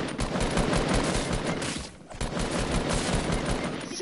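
Sustained automatic gunfire rattles in a shooter video game, dense rapid shots with a brief pause midway before the firing resumes.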